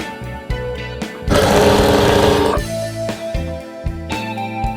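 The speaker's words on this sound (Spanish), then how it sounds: "y continuamos con la costura" A sewing machine stitches a seam on a pair of trousers, its motor running in one loud, steady two-second burst between stretches of background music.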